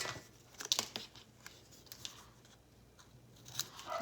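Scissors snip at angles through paper envelope flaps for a handmade mini album journal, a few quiet, sharp cuts and crisp paper rustles spaced irregularly against a hushed background.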